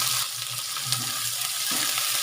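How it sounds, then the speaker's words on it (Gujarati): Chopped onions sizzling and frying steadily in hot oil in a pan for masala oats, a continuous close crackle with no talking. "ડુંગળીને આપણે અંદર એડ કરીશું"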